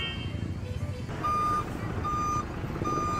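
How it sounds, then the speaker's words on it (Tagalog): A 6-wheeler service truck arrives at a pig farm, its reversing alarm giving three steady, evenly spaced beeps over a low engine rumble and background noise. "At dumating na ang ating service truck, ang ating 6-wheeler truck."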